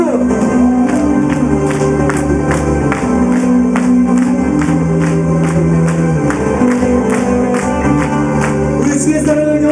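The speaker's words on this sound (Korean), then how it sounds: "박수." Church congregation applauding during a worship service, steady dense clapping throughout over sustained music with held organ-like tones, fairly loud and continuous.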